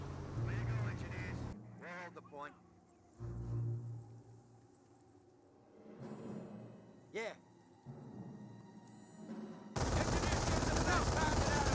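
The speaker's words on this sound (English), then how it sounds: "MG42 does find a good angle there on those, or on the engineers." A German MG42 machine gun in Company of Heroes rattles in a few bursts at enemy engineers, sharp and mid-distance, mixed with battlefield noise and a commentator's voice talking over it.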